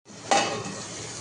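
A pot lid is lifted during cooking, a short clank followed by a steady sizzling hiss of frying that carries on after it, close and fairly loud with no voices.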